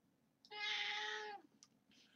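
A cat gives one clear, drawn-out meow close by, with faint small clicks and rustles around it in an otherwise quiet room.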